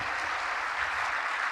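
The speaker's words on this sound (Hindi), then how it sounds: "सभी जोरदार तालियां बजाएंगे" Dense, even applause from an audience at a students' congregation valedictory session fills the moment steadily, with no break in the clapping.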